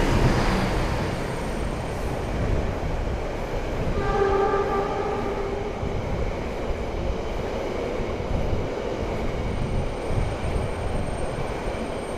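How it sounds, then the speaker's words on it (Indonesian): A KCIC feeder train from Bandung to Padalarang rumbles loudly into a station, sounding a brief horn partway, with steady rolling rail noise continuing throughout. "Barusan itu ada kereta feeder KCIC yang nyampe ya teman-teman, dari Bandung tujuan ke Padalarang"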